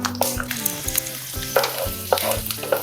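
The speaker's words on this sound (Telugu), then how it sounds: "కొంచెం మంచిగా ఫ్రై చేసుకుందాం పీనట్స్." Peanuts roasting in hot oil in a pan crackle and sizzle loudly and close, with rhythmic stirring clatter of a utensil against the pan throughout; no voices.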